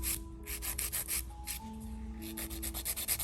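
A nail file shapes acrylic stiletto nails with light pressure, producing quick, close, rhythmic scraping strokes, soft and gritty, repeated steadily throughout.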